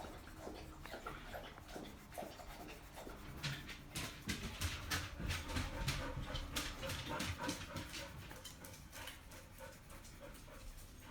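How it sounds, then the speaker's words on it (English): An excited dog, worked up after playing ball, pants rapidly and whimpers in bursts at close range, growing more intense in the middle before easing off, with no clear barks. "So now the dog is all hyped."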